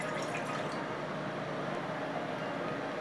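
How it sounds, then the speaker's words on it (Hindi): A glass of water is poured into a cooking pan, a steady, soft splash and trickle lasting a few seconds with no talk over it. "इसमें हम 1 ग्लास पानी डाल देते हैं।"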